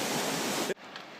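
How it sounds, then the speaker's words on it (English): A small waterfall spilling out of rocks in the Grand Canyon makes a steady, even rush of falling water that cuts off abruptly, leaving quiet outdoor ambience. "we got a waterfall coming right out of the rocks up there"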